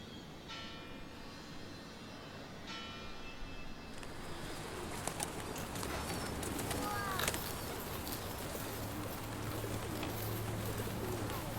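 Pigeons coo softly and repeatedly in Paris, with wing flaps and a bell ringing in the background over a steady outdoor ambience.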